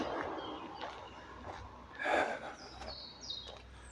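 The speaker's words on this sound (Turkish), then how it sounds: "Her taraf cıvıl cıvıl kuş sesi." Faint, scattered bird chirps and tweets sound at a distance in Elvan Pazarcık city forest, Zonguldak, Turkey, with soft breathing close by in a quiet outdoor setting.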